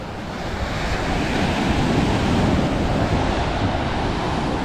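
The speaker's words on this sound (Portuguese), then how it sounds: "E aí o belo Oceano Atlântico." Atlantic Ocean surf washes steadily onto the beach at Candeias, Jaboatão dos Guararapes, a loud continuous roar of breaking waves mixed with wind buffeting the microphone.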